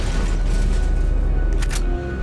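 An explosion in the video game Resident Evil 4, a loud, sustained low rumbling boom that fills the whole clip and ends with a brief crackle.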